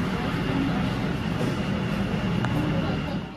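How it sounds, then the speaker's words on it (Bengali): A Howrah metro train pulls into the underground platform with a steady, loud rumble that carries through the whole stretch without easing. "সো গাইস আমাদের ট্রেন চলে এলো"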